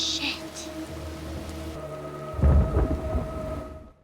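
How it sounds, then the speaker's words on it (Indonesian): Heavy rain pours steadily with thunder, a deep rumble rolling in partway through over the constant hiss of falling water, with faint murmured voices underneath. "hujan turun semakin lebat"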